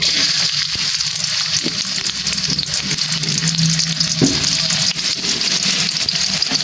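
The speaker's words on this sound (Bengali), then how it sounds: "কড়াইটা দিয়ে দিছি আর তেলও দিয়ে দিছি এখন দিয়ে দিব পেঁয়াজ কুচি" Chopped onion frying in hot oil in a wok, heard as a close, steady sizzle with stirring and scraping sounds throughout.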